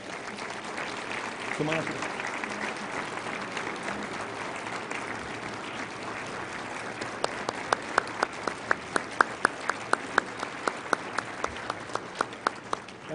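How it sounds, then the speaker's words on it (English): Audience applause at an awards ceremony, a broad wash of clapping with a few sharp, louder individual claps standing out in a steady beat toward the end, and a brief spoken phrase early on. "why don't you both come up and get a round of applause"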